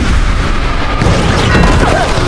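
Heavy punch sound effects from the Tokyo Revengers anime hit like booming gunshots, a dense loud burst of impacts filling the whole moment.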